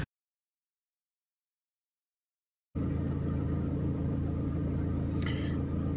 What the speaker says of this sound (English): Okay, I'm gonna start driving.